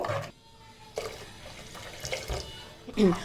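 Water poured into a curry masala for silver fish curry and stirred in, giving a few short splashing, sloshing bursts close by with quieter stirring between them.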